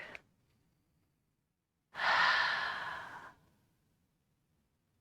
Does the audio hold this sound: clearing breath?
yes